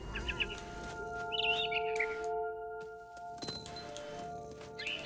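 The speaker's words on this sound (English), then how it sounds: "Then I heard chirping outside my window. It was a barn swallow going back to her nest." A barn swallow chirps in the video game What Remains of Edith Finch, with a few bright twittering bursts over a steady tonal ambient hum and occasional clinks.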